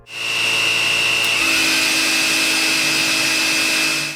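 A Dreame R10 cordless stick vacuum runs steadily with a high-pitched whine and broadband airflow hiss, close and continuous, pitch shifting slightly midway.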